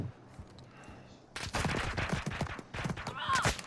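Rapid bursts of gunfire in Call of Duty Warzone 2.0, a dense fusillade of overlapping shots that starts abruptly after a quiet stretch and continues loud and close, with faint earlier pops in the background.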